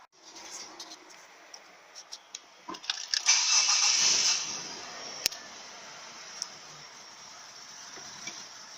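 A Mitsubishi Delica 4WD starts: a few light clicks, then a short burst of cranking as the engine catches, settling into a quiet, steady idle with occasional small ticks.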